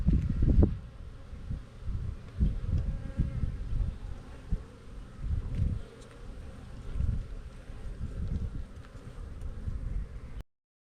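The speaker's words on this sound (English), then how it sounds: "Then I'm going to shake off more nurse bees into that colony and get it heavily packed with nurse bees" Honey bees at a hive colony hum in a close, droning buzz that swells and fades in waves, with occasional wind rustle and handling noise underneath and no talking.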